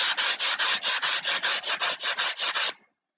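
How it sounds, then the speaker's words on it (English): Steady back-and-forth strokes of sandpaper on wood, shaping the radius of a Sig Kougar model aircraft turtledeck; about a dozen even, rhythmic rubbing passes, close and loud, stopping abruptly near the end. "I'm just gonna sand sand the radius in here"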